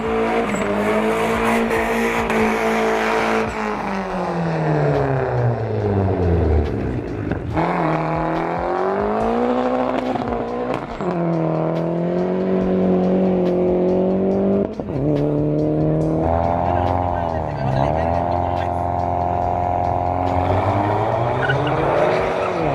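Drag race cars accelerate hard at the Autódromo Moisés Solana, engines screaming and sweeping upward in pitch through repeated gear runs, loud and continuous with crowd-level background roar.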